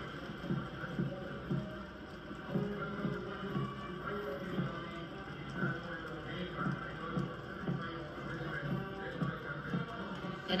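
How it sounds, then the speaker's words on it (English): Horse hooves of a mounted cavalry regiment clip-clop on tarmac during an India Republic Day parade, a steady rhythmic beat of many hooves at moderate distance over a constant background wash. "after the clip clop of the horse hooves on the tarmac"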